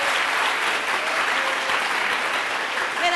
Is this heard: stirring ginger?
no